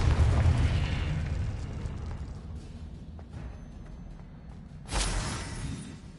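A Confringo fire spell in Hogwarts Legacy bursts with a loud, booming explosion that slowly rumbles away, then a second sharp blast near the end, with no one talking.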